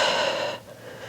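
During a Pilates reformer exercise, one soft breath is pushed out and stops partway through, leaving quiet room tone.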